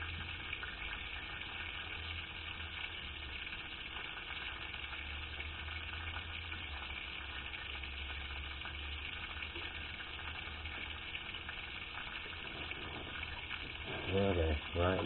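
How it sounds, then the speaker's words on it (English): Chicken frying in oil for an old KFC-style recipe, a continuous steady hiss and bubble at moderate level with a low hum beneath, and a brief clatter near the end. "It's not very exciting to watch chicken fry."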